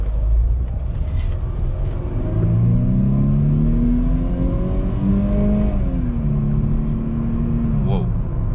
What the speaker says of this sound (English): let's see this car's acceleration